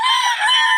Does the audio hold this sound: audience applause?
no